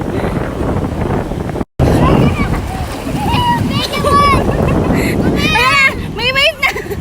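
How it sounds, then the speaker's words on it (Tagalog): Ocean waves wash in at a crowded Mission Beach, a steady broadband rush with wind buffeting the microphone, while children shout and adults talk and laugh close by throughout. "May wave na!"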